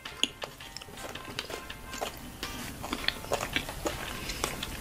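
Someone bites into and chews a vanilla bean dessert topped with sprinkles, with close, repeated crunchy bites and soft chewing in an irregular rhythm and no talking.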